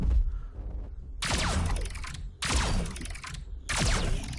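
Three bursts of mechanical clanking and metallic ratcheting as a cannon reloads in the PSVR game Sabre VR, each lasting about a second, separated by brief lulls over a low rumbling background.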